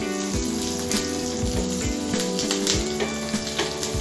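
Mustard seeds, sesame seeds and two green chillies sizzle and crackle steadily in hot oil for a tempering, a continuous close frying hiss with small pops and no talking.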